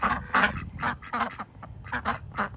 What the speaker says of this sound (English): The duckies are happy.